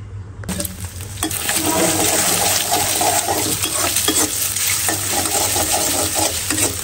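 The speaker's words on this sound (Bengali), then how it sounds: "তো এখন ভাবলাম যে আর ভাত ভাইজা দিই সকালে।" Leftover cooked rice fries in a pan with a loud, constant sizzle that starts after a short pause, with scraping stirs throughout and no voices.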